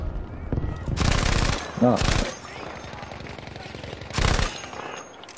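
Bursts of automatic M1922 machine gun fire in a video game battle, loud and close, with several sustained volleys separated by pauses and a steady background of combat noise.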